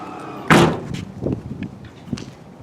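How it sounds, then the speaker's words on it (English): A 2019 Chevy Blazer car door is shut by hand with a single solid thud, loud and close, followed by faint interior rustling and small knocks. "if you're too weak to open and close the door like this manually"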